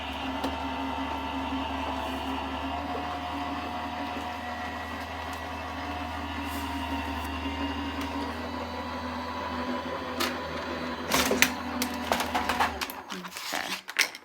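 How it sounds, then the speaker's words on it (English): A Gemini die-cutting machine running for cardmaking, a steady mechanical motor hum with a low drone that continues evenly, then gives way to a few clicks and handling knocks near the end. "We're then going to run that through my Gemini machine."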